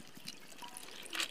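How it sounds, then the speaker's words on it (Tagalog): Evaporated milk for a banana shake pours into a blender in a soft, brief liquid trickle that splashes a little louder toward the end, quiet and close with no voices. "Buhos natin yung isang gatas."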